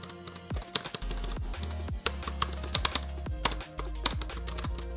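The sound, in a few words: typing on Logitech K380 keyboard keys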